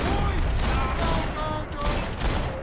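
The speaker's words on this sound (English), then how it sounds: "Lay down some fire, boys!" Video game gunfire in Max Payne 3, a dense continuous fusillade of overlapping shots and bursts filling the whole moment, loud and close.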